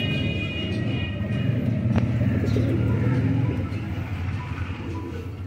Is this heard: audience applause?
no